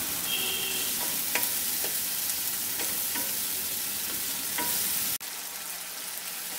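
A spice paste for Bengali-style brinjal curry fries in oil with a constant close sizzle while a spatula stirs it in irregular clicks and scrapes, and the hiss drops sharply near the end.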